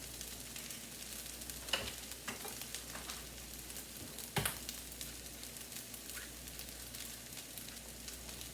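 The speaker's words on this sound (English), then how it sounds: "I'm going to scramble up 3 eggs." Three eggs being scrambled in a frying pan, a quiet steady sizzle with soft scraping and a couple of sharp knocks of a utensil against the pan, without talking.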